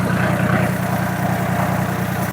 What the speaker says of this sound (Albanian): Xhiron me traktor ma bëre